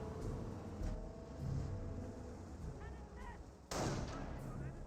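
Gunfire from an infantry squad garrisoned in a building in the Company of Heroes war game crackles steadily in the background, with a louder blast near the end. An announcer talks over it.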